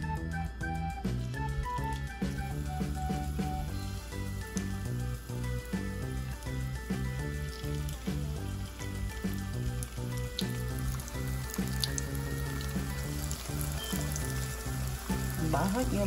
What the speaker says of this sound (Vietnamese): Cái phần xôi này nè, mình bỏ vô mình chiên.